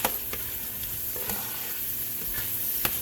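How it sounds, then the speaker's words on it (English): Sausage, peppers and onions sizzle steadily in a pot while a spoon stirs them, with a few sharp scraping knocks against the pot's bottom over the continuous frying hiss. "Mixing up the sausage and the peppers and onions in the bottom."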